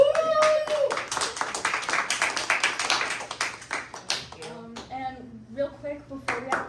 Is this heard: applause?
yes